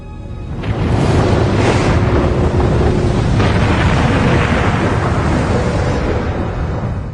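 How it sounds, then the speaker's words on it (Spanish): A gigantic volcanic eruption explosion at Santorini, rendered as a loud, sustained, deep rumbling roar that swells in and holds steady without any voices. "Esta gran cuenca curva fue creada por una gigantesca erupción volcánica."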